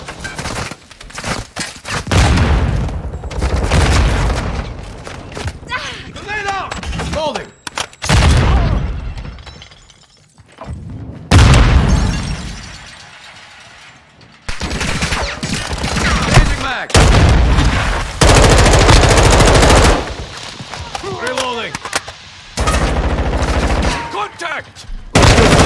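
Sustained gunfire during a team deathmatch video game: dense, loud automatic bursts and booms, continuous through most of the stretch and broken by brief lulls, with some voice callouts mixed in.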